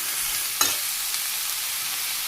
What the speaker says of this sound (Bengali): পেঁয়াজ দিয়ে দিতেছি